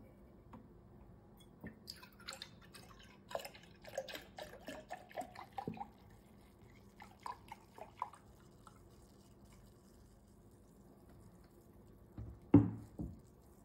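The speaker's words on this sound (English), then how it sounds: "First, I fill my thermos with milk." Lactose-free milk poured into a thermos, with sparse wet trickles and drips scattered over a quiet background and a sharper knock near the end, no talking.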